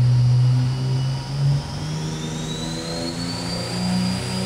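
A turbocharged Ford 300 inline six on a dyno holds a high, droning rev with a rising turbo whine over it, steady and loud with a brief dip partway through.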